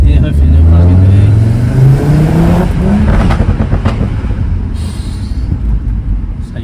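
An Audi TTRS pulling hard on an open road, its engine note climbing loud and close in a rising, sustained roar before easing off toward the end.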